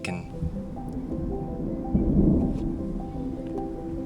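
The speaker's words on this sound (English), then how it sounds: "there's a storm approaching" Distant thunder rumbling from an approaching storm over the green riverbed of Chobe National Park, Botswana, a low continuous roll that swells briefly midway, with no voices.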